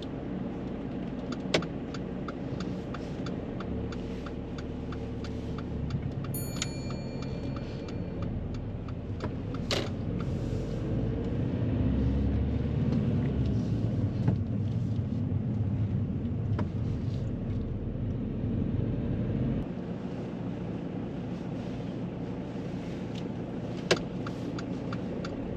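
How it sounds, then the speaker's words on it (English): A learner car pulling away during a driving lesson on roads with hazards and mini roundabouts: steady low engine rumble and road noise building over about twenty seconds, heard from inside the cabin, with a few faint clicks and no talking. "So when you're ready, Erin, I'd like you to drive off."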